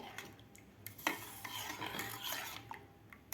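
Milk and sugar being stirred in a pan until the sugar dissolves: quiet scraping and rubbing strokes of a spoon against the metal, continuous with a sharper clink near the start.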